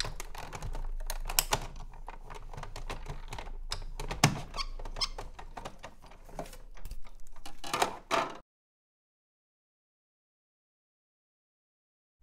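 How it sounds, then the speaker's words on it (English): A Big Shot die-cutting machine cranked back and forth with cutting plates passing through, giving dense clicking, ratcheting and squeaky mechanical sounds up close for about eight seconds, then silence, with no speech. "put the top cutting plate and run that through the Big Shot"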